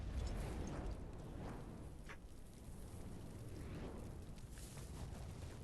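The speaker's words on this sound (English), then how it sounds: "The explosion engulfs the room, devouring the grace balance of light and shadow." A video game explosion engulfs a room, heard as a sustained rumbling roar with a dense, noisy wash that stays steady throughout and has a faint crack near the middle.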